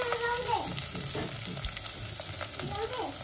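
Urad dal frying in hot oil with green chillies and curry leaves, a soft continuous sizzle broken by a few spoon stirs and scrapes against the pan, close and quiet.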